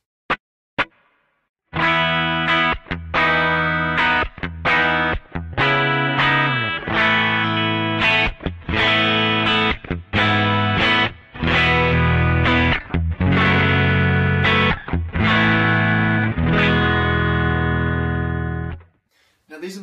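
Electric guitar played through a chain of effects pedals that stay on most of the time as a base tone, sounding in a steady run of sustained, rich chords and notes with brief gaps between strums, loud and alone.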